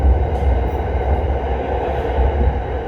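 A train locomotive rumbles by steadily and close, its heavy low roar and rolling rail noise holding unbroken for the whole stretch, with no voices heard.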